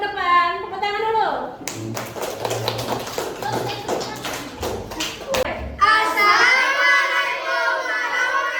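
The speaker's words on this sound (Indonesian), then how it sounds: "Tepuk tangan dulu." Children applaud in a classroom as a student group is called up to present, a burst of close, rapid hand claps lasting several seconds between stretches of a teacher's talking.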